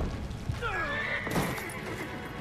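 Horse in the Assassin's Creed Brotherhood video game whinnying as it is killed, a rising and falling neigh over dense game noise, followed by a sharp burst of action sound.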